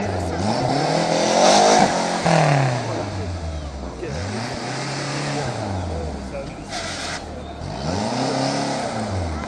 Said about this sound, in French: L'imposante BMW de Raymond Husé, donc.